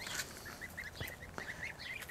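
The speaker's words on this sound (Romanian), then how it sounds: "nu am cum să nu vă arat aceste gâsculițe care toată ziua sunt după mine" Young goslings peep in a quick run of high, thin chirps, close and fairly soft, repeating irregularly over a quiet background.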